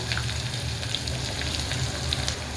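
Chopped onion with ginger-garlic paste fries in hot oil for spiced masala rice, giving a steady, close crackling sizzle with small pops throughout and no voices.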